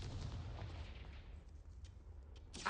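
Confringo blasting spell in a Harry Potter magic video game: a deep booming explosion that rumbles and decays over about two seconds, followed by a sharp crack at the end.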